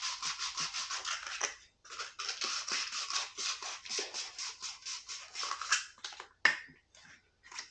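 A surface scraped and stripped before gluing. It gives a steady run of rapid rasping strokes at close range, with a short pause and a sharp click near the end.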